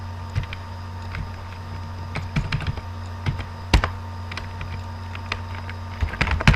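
Typing on a computer keyboard while writing PHP code, a steady run of quick, light key clicks with occasional louder strikes, close up over a faint background hum.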